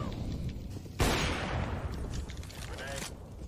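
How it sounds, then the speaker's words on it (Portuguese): Galil rifle fire in a Counter-Strike match sounds as a sharp burst of shots around the one-second mark, then scattered fainter gunfire, all under excited live commentary. "Nico, he's just body shotting them with the Galil"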